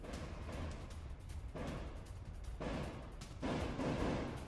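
Gunfire rattles in bursts across a war zone ambience, with dense crackling volleys swelling and fading at a distance.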